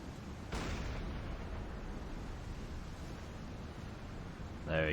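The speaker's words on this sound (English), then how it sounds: "There we go, nice explosion underwater." Underwater torpedo explosion in the submarine game Silent Hunter 5, a sudden deep muffled boom followed by a sustained low rumbling roar that fades slowly, with a brief sharper sound near the end.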